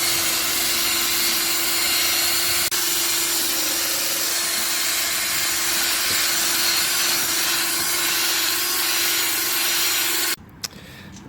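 A brush scrubs cleaner into the upholstery of a Chevrolet Silverado center seat with steady, close, rasping friction and a faint machine hum beneath it, stopping abruptly near the end.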